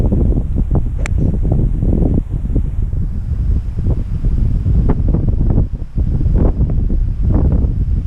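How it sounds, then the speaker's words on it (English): Gale-force wind on a golf course roaring and buffeting the microphone, loud, dense low rumble with gusty surges throughout. "we have gale force winds with us right now"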